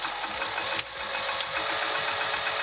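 Sewing machine stitching a velveteen boxy pouch, a steady fast mechanical whir with rapid needle ticks, running continuously and close with one brief hitch partway through.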